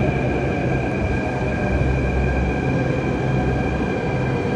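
A Delhi Metro train rumbles steadily with a constant low roar and faint high tonal whine, loud and close throughout with no voices.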